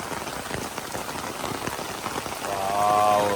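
Rain falling on a flooded garden in Chennai, a dense, steady patter and splashing on standing water, close and constant, with a brief tonal hum rising near the end.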